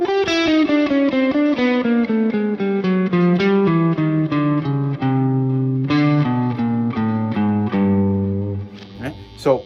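A guitar runs a jazz scale with chromatic half-step passing notes, a continuous stream of distinct single notes stepping steadily downward, loud and close with no talk over it, ending with a brief pluck.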